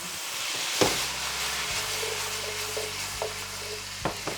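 Sesame seeds and celery tops fry in a hot pan, a continuous close sizzle and hiss with a few sharp clinks and scrapes as the pan is stirred.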